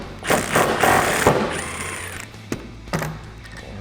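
A 16mm nut is worked off the upper shock mount of a 2015-2019 Mustang, heard as a close run of quick ratcheting and rattling clicks, then a few separate metallic knocks and clunks.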